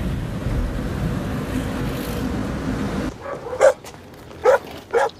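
A dog barks during a game of fetch outdoors, with three short, sharp barks sounding after a stretch of steady broadband background noise.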